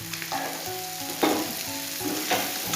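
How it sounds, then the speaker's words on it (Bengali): Gugli snails fry in hot oil in a covered pan, crackling and popping sharply in quick bursts over a constant close sizzle. "বাপরে, ফটকা ফাটার মতন সেই চটপট আওয়াজ হচ্ছে।"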